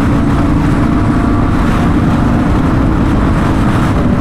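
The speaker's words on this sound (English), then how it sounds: "these guys' bikes are so much louder" Loud motorcycles nearby, a heavy, continuous low engine rumble and roar that stays at a high, constant level with no breaks and no speech.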